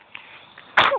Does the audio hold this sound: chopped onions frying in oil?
no